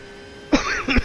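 A single cough rings out, followed by a second shorter cough just under a second later, close and fairly loud over a faint steady background hum during an iRacing GT3 league race.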